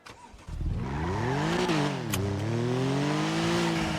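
A car engine in a glitchy video game roleplay server kicks in after a short, quiet lead-in, then revs loud and close, its pitch climbing, dipping and surging again with no voices.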